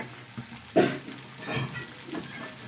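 Fried potatoes dropped into a cooked spice paste in hot oil for a mixed vegetable dish, a sharp burst of sizzle followed by stirring and a softer continuing fry, close up with no talk.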